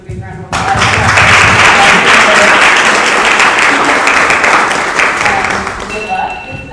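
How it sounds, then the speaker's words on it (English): An audience at a candidate forum bursts into sustained applause, a dense roar of many hands clapping that holds steady for several seconds before gradually thinning out. "Let's give a big round of applause."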